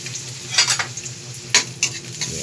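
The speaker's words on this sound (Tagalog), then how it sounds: "halu-haluin hanggang sa lumabas ang kanyang aroma" Garlic frying gently over low heat is stirred in a pan, a soft steady sizzle with a few sharp metallic scrapes and clinks of the utensil, close by, with nobody speaking.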